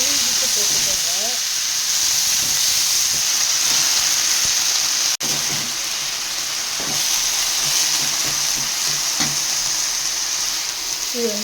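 Tamarind, garlic, ginger, urad dal and dried chillies frying in hot oil, giving a steady close sizzling hiss throughout with occasional scrapes and clinks of stirring.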